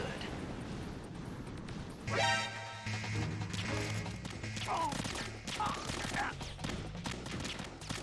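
Gunfire from a gun rush fight against six guards in Metal Gear Solid 2: Substance, a burst of shots and crashes under steady game music with someone talking over the action.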